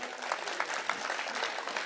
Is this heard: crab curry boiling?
no